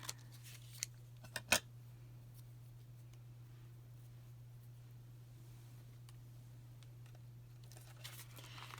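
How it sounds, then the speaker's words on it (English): Scissors make a few quick, sharp snips trimming the bottom of a paper tag holder, heard close over a steady low electrical hum with long quiet stretches between cuts. "I'm going to kind of try to square it up a bit by cutting the bottom here."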